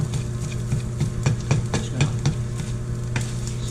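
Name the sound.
eggs being chopped into tiny pieces while frying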